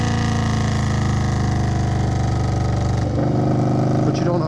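An Indian Scout Bobber motorcycle engine fitted with an aftermarket intake and exhaust, running at a steady loud rumble close by with a deep continuous drone that shifts slightly near the end.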